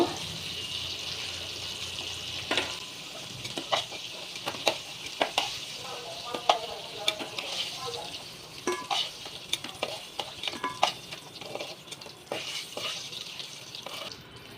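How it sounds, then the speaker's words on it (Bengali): Crab that has been fried in oil is lifted out of the pan. Utensils clatter and scrape repeatedly over a low sizzle, with some watery dripping and faint background voices. "মাছটা ভাজা হয়ে গেছে। এবার আমি মাছটাকে একটা পাত্রে"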